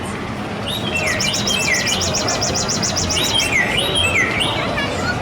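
Bright, rapid recorded bird chirps and warbling trills from an interactive exhibit repeat in quick runs, loud and close over a low background hum, with no talking.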